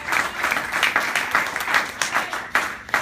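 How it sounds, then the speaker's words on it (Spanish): Church congregation clapping together during a Spanish-language worship service, a dense, steady wash of applause with sharp accents, sustained throughout and fairly close. "Puede aplaudir el nombre de Jesús con toda su fuerza."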